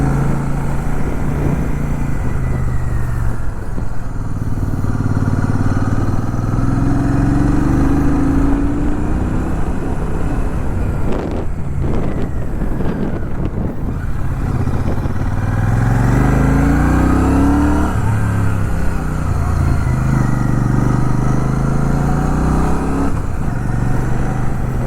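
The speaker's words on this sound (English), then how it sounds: "Trust me, you will enjoy riding this motorcycle in the curves like this." A Royal Enfield Shotgun 650 motorcycle rides through mountain curves, its engine loud and close, rising and falling as it revs through gear changes with steady wind noise throughout.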